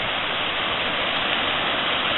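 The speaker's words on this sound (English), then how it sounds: "That's all that white is white water coming out of the lake." White water rushing out of a lake, a loud, steady roar of churning water that stays constant from start to finish, with no voices.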